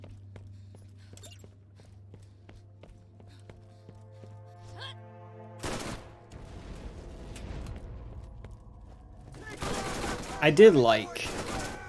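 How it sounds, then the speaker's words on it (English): The Firehawk, a fire-element legendary pistol in Borderlands 1, fires in scattered bursts that grow denser and louder later on, with footsteps and a person speaking in between. "Firehawk is the fire pistol"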